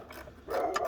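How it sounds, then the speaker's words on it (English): A dog barks once or twice at fairly close range in a garage-like space, the sharp bursts landing in the second half over low background noise. "I forgive my dogs, they bark at everything."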